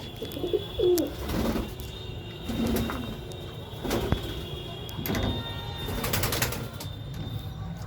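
Soft, low pigeon coos repeat several times at a relaxed pace, with faint rustles and small knocks in the background.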